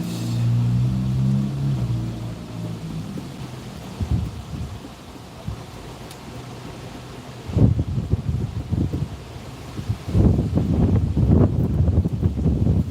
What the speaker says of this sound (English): here's that wind again. That's another thing that's a bummer, just this wind.